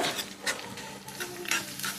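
Mustard seeds, curry leaves and garlic sizzle in hot oil as a tempering for an Udupi-style jackfruit and Malabar spinach curry, a bright crackling hiss broken by quick scrapes of stirring, close up.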